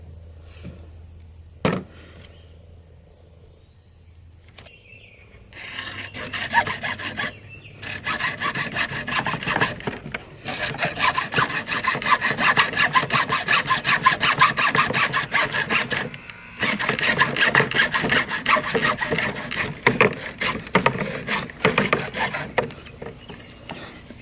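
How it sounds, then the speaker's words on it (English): PVC pipe being hand-sawn into two-foot sections for an archery target stand, a steady rasping back-and-forth stroke that runs close and loud for most of the stretch, with brief pauses between cuts. "I'm going to measure off 2 2-foot sections and cut them off."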